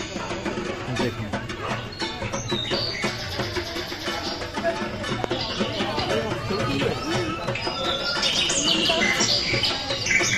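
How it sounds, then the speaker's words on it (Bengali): Recorded bird chirping plays at a crowded Durga Puja pandal in Kolkata with a decorative bird cage, bright twittering calls mixed into a busy murmur of crowd chatter and someone talking nearby. "এখানে পাখির খাঁচা করেছে, মানে পাখি আছে, পাখির আওয়াজও দিয়েছে।"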